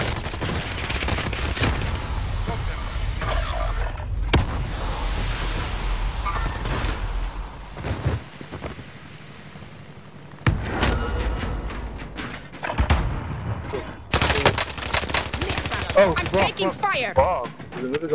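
Dense gunfire from AS44 and MP40 weapons in a Warzone Rebirth Resurgence quads match rattles in fast, loud, overlapping bursts that continue almost throughout, with a brief lull near the middle before the shooting picks back up.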